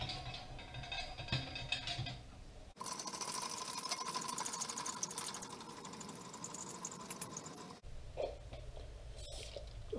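A hand-cranked tire packing tool being wound up, giving a close, continuous whirring mechanical rattle that runs for several seconds between quieter stretches, with no talking over it.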